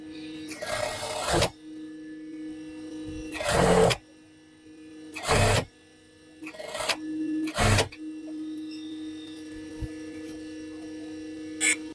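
A sewing machine stitches a zipper onto a jacket in five short, loud bursts separated by pauses, over a constant electrical hum.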